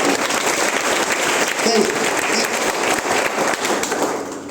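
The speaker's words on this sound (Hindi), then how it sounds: "तो ताली बजाना चाहिए आप लोगों को" Audience clapping steadily throughout a business training session in Muzaffarpur, a dense, continuous wash of hands, with a few voices faintly mixed in underneath.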